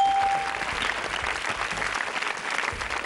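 An audience at a Tamil children's television show applauds, a dense and steady wash of clapping that stays loud and continuous throughout.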